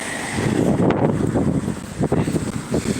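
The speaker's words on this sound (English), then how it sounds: "Oh, it's quite windy." Strong wind buffets the microphone outdoors, producing loud, gusty rumbling that surges and dips unevenly across the whole stretch, with no talking.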